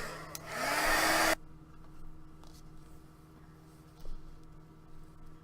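Heat tool or hair dryer drying ink on a stamped card, a loud steady whooshing blast for just over a second that cuts off abruptly, followed by a quiet room hum and a few soft knocks.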